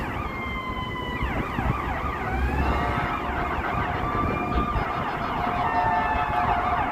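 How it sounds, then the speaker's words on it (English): An ambulance siren wails loudly and continuously on Division Street, Chicago, its rising and falling tones sweeping repeatedly as it draws near, with traffic rumbling underneath. "It's like is it an ambulance?"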